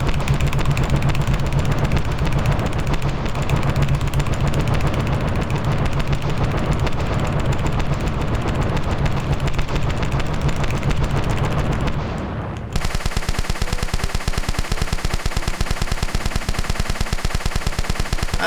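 Rapid continuous shooting from a Metroid video game, normal beam shots and missiles firing in a dense, loud, unbroken stream of blasts, with the pattern shifting to a steadier buzzing barrage partway through.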